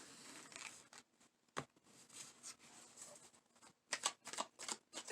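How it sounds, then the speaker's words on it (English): Tarot cards are shuffled by hand in quiet, close riffles and soft slaps, with irregular bursts of crisp card noise and pauses between them. "I was just shuffling to be shuffling while I talked."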